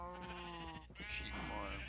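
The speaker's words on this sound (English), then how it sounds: "sheep farm." Minecraft sheep on a game farm bleating in short wavering cries, two bleats close together, clear and up front with a soft in-game background.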